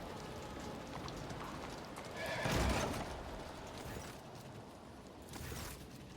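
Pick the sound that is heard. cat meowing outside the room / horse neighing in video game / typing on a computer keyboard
horse neighing in video game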